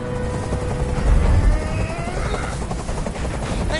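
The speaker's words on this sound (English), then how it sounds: "I can't stand that noise anymore! Tell that helicopter to get out of here!" A helicopter in the video game Detroit: Become Human, heard as a loud, steady rotor roar and rumble with a dense low-end throb that swells briefly and never lets up.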